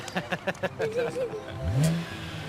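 A car engine revs in a short rising burst near the end, with people talking and laughing over it beforehand.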